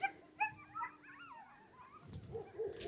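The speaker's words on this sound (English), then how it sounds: "There is some baby coyotes and some coyotes that are howling over that way" Coyotes and coyote pups calling near a homestead: wavering whines, yips and rising howls overlap in a loose chorus, moderately close and fairly quiet, with a few louder yelps and no voices.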